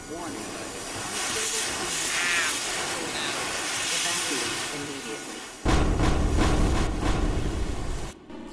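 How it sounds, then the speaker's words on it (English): Steam pressure hisses in a horror video game, a broad airy rush running for several seconds before a louder, denser burst of venting takes over near the end, with a synthetic voice announcing over it. "Unstable steam pressure detected."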